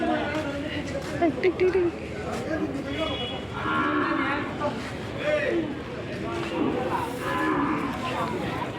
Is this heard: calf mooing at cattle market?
yes